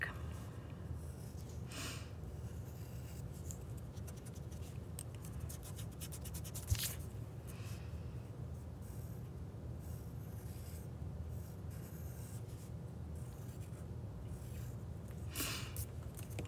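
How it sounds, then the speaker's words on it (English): A pencil coloring in a drawing on paper, a faint, steady scratchy rubbing with a few sharper strokes and a quiet click. "It's like my pencil is drawing extra dark"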